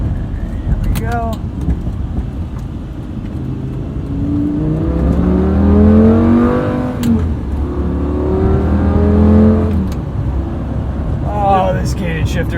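A 2007 Lamborghini Gallardo with a gated six-speed manual revs hard while driving, its engine note climbing in two long sweeps with a shift between them, heard close from inside the cabin, with brief talk near the start and end.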